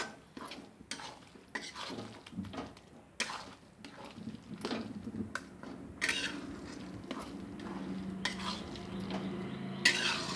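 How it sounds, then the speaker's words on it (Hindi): Grated coconut and milk stirred continuously in a pan over low heat for coconut laddu, with repeated close scraping and clinking strokes of a spoon against the pan and a soft simmer beneath. "इसे हमें लगातार चलाते रहना है"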